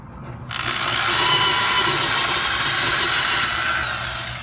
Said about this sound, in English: And then we drilled right through here